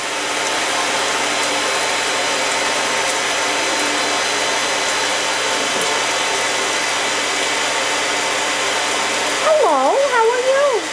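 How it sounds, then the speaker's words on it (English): A blow dryer runs steadily and loud as it dries a wet, freshly showered Eclectus parrot, a broadband whoosh holding throughout, with a voice briefly speaking near the end. "He's getting dried off. He's underneath the blow dryer."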